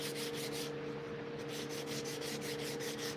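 Steady, close rasping rubs as the edge of a wooden sheath is chamfered at roughly 45 degrees, a continuous sanding-like scrape with regular strokes over a faint hum.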